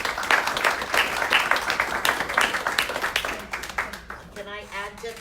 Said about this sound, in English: let's all give them a round of